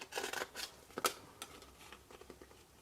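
Scissors snip through paper while a flat-folding Christmas card is cut, giving a few quiet, close crunching snips with soft paper rustle between them and a sharper cut near the middle.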